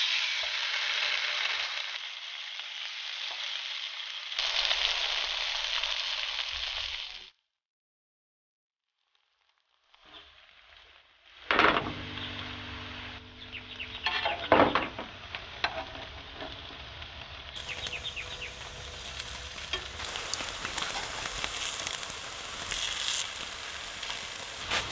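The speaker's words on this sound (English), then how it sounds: "So we've got the bacon cooking, it's almost done." Vegan bacon strips frying in a pan during a cook from a car, with a broad steady sizzle that cuts out to near silence, then returns with clatter and handling noises before settling into continuous frying.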